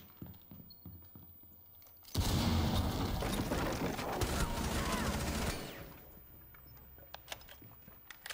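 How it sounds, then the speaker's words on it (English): A breach charge being set during a Rainbow Six Siege match: a sudden loud burst of dense mechanical clatter and crackle lasting about three seconds, then fading back to quiet game ambience with faint ticks. "Setting charge."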